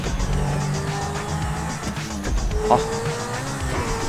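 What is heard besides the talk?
car drifting with tire squeal in GTA 5 video game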